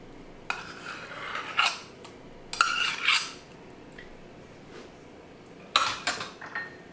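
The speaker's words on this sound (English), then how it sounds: "And we'll just mix that in" Ricotta is stirred into pasta sauce for a lasagna pasta bake, with three bursts of spoon scraping and clinking against a pot separated by quiet pauses, close and clear with no talking.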